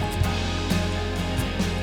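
A sustained, dense drone layer from the stem breakdown of an indie rock track plays alone, with steady low tones and a shimmering upper wash holding at an even, fairly loud level throughout.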